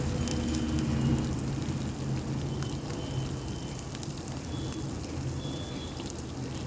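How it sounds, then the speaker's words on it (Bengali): Katla fish sautéed with garlic paste in a pan gives a steady, close sizzling hiss that stays even throughout, with no voices. "রসুন বাটা দিয়ে ওটাকে কষতে থাকবো।"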